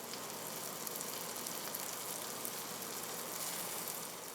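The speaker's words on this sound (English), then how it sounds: "When you put your fish in, you want to make sure that you hear that sizzle." A steady, dense sizzle of fish frying in hot oil, constant hiss with no breaks, close and fairly loud.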